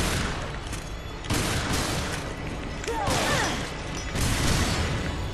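Gunfire in Resident Evil Revelations: a few heavy bursts of shots and impacts rise out of a constant loud, dense game soundscape, with one brief squealing cry partway through.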